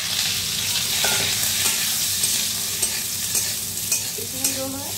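Fenugreek seeds fry in oil as mango pieces go into the pan, a steady close sizzle with occasional soft ladle scrapes and clinks throughout.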